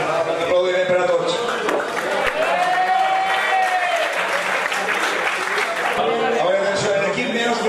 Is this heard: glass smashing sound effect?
no